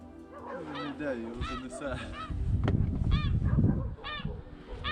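Geese honk repeatedly in loud, nasal calls, with people talking and a dog barking close by.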